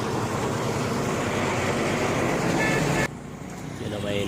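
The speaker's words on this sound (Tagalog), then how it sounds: "Ayun, may mga sasakyan" Road traffic rumbles past beside a bridge at night, a steady loud wash of car noise that drops abruptly near the end, with faint talk nearby.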